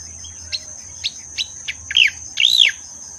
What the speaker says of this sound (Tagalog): Yung pala umuhuning ibon.